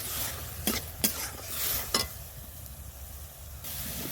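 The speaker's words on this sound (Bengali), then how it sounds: "এবার গাজরটা একটু ঘিয়ের সাথে ভালো করে একটু ভেজে দেবো" Steady sizzling of grated carrot frying in ghee, with a few sharp scraping stirs near the start, then a softer continuous crackle.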